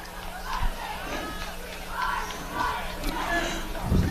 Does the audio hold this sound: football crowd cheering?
yes